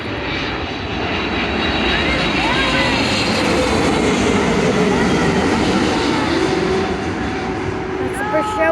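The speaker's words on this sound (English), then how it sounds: "That's the British Airways coming in." A British Airways airliner roars in on its landing approach to Vancouver International Airport, a loud, close, sustained engine rumble and whine that swells and holds, with people talking excitedly underneath.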